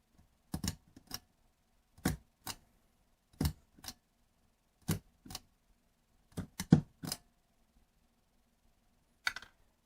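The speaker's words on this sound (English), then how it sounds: "Switch the bulb on and off 5 times in a row." A wall light switch for a Yeelight smart LED WiFi bulb flicked on and off in quick pairs of sharp clicks, about five cycles with pauses between, close and crisp in an otherwise quiet room.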